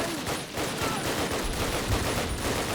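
Sustained gunfire in the Call of Duty Classic Xbox 360 game at Castles and Bridges, a dense, continuous burst of rapid shots without pause, loud and close.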